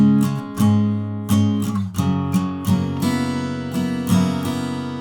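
An acoustic guitar strums the opening chord line of an unplugged song in a steady down-up rhythm, with bright, close, repeated chord strikes and brief changes between chords.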